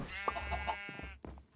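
A sheep bleats in the Minecraft video game, one wavering, nasal bleat lasting about a second that ends abruptly. It plays quietly on its own among other farm animals.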